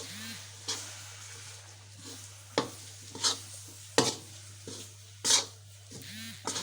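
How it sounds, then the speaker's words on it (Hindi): Jaggery syrup poured into a millet laddu mixture and stirred, with repeated scraping and clattering strokes of a spoon against the pan over a low steady hum, close and moderately loud. "अब मैं इसके अंदर डाल रही हूँ तो ये शीरा गुड़ का"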